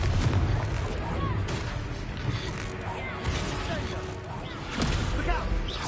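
Confringo fire spell explosions in Hogwarts Legacy on PS5, dense booming blasts and crackling bursts in loud combat, several impacts in quick succession, with a voice calling out over the noise.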